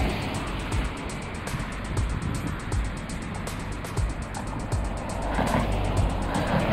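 A car merges onto a Tokyo expressway from the Minami-Ikebukuro parking area, giving a loud, close engine and road roar with a steady ticking pattern and a rise in intensity toward the end.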